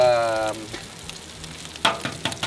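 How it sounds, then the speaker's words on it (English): Eggs and chorizo fry on a Blackstone flat-top griddle, a constant sizzle underneath scraping spatula strokes and a few sharp taps, with a voice heard briefly at the start. "start cooking his eggs with a chorizo"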